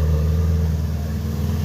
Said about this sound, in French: Petit moteur.